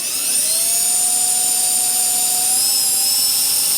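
A power drill whines steadily and loudly as it drives into the plastic of a 1978 Trans Am door, its pitch holding high and even for several seconds.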